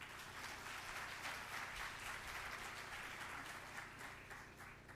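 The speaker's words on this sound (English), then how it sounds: "Let's give ourselves a round of applause." A Montgomery College audience claps steadily and loudly as a dense wash of applause, sustained evenly throughout with no pause.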